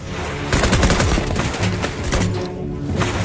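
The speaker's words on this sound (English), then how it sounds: "The first shot hit the bucket dead center" Rapid gunfire from a first-generation AK-47 in a film scene, a loud dense burst of overlapping shots under music and background noise, with no pause between shots.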